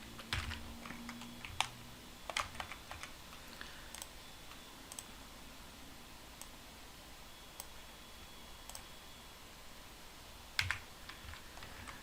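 Computer keyboard keys and mouse clicks at a desk, quiet scattered taps and sharp clicks in an irregular rhythm over low background hiss, with a small cluster of clicks near the end.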